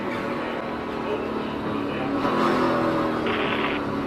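NASCAR race cars at Speedweeks roaring past as a pack, a dense sustained engine drone that swells and recedes, with crowd and commentary faintly mixed underneath.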